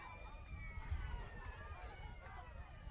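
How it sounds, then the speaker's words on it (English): A distant wailing half-time siren at a men's quarterfinal match rises and holds across the clip, faint beneath crowd noise and commentary talk. "As we hear the half-time siren in the background"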